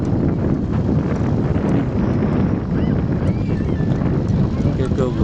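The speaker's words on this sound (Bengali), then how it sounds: "অপূর্ব ঠান্ডা হাওয়া।" Cold wind blows hard against the microphone on the road to Kutch during a kite festival, a loud, constant rushing buffet that fills the scene.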